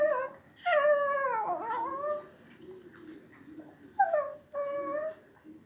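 A dog begging for food whimpers and howls in two drawn-out, wavering whines separated by a short pause, fairly close by in a quiet room.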